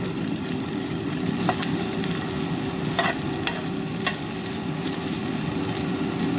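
Tomatoes and green chili fry steadily in a pan, a constant close hiss with scattered scraping clicks as the mixture is stirred.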